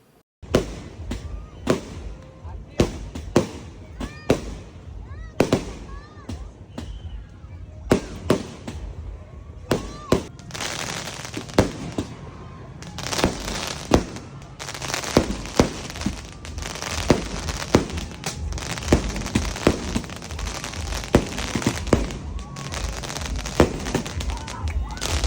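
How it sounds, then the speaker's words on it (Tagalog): Fireworks go off at a cemetery at night, with many sharp cracks and bangs at irregular intervals over a steady crackling background, some loud and close, others more distant, and faint voices heard now and then. "may fireworks dito sa Garden of Ascension"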